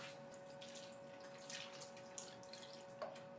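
Water poured into a roasting tin holding a seasoned chicken, a faint, steady trickle and splash in a quiet kitchen, with a few small drips and clinks near the end.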